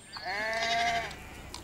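One drawn-out, wavering sheep bleat rings out nearby in a spring meadow in Central Europe, clear against quiet surroundings.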